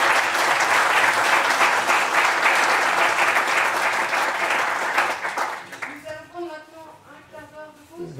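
An audience at a talk on the Nuremberg trial gives a dense, sustained round of applause that fades after about six seconds, leaving scattered voices and a few remaining claps.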